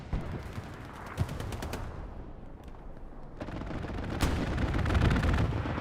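Strafing-run gunfire in a multiplayer war video game, a dense rattle of rapid shots and booming impacts that drops briefly mid-way then swells back louder and continuous.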